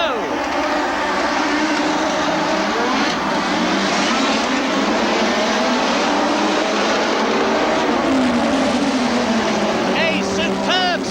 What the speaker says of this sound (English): A superb start by Gerhard Berger, who uses every one of his BMW horsepower to accelerate away